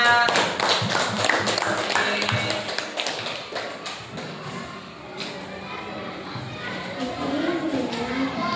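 Fourth-grade pupils in a classroom clap for a group, a loud, uneven flurry of close hand claps and taps, with children's voices chattering underneath.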